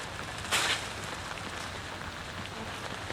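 Pouring rain makes a soft, steady hiss of falling drops, fairly faint and continuous, with one brief louder splash near the start and no talking.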